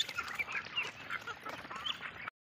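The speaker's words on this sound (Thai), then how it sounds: "ตัวลายก็เป็ดเทียนนี่ครับลูกเป็ดพันธุ์นครปฐม" Nakhon Pathom breed ducklings quack continuously in a busy close chorus of overlapping peeps and calls, with no speech.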